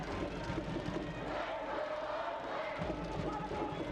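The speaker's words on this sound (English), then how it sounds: "Let's go Oakland chants emanating from the crowd, hoping to will the home side to a late dramatic 3 points." Stadium crowd chanting at an Oakland Roots soccer match against Miami FC, a dense roar of many voices with rhythmic chanting spread across the stands, steady and moderately distant, with no clear single voice.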